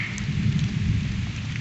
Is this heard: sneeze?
no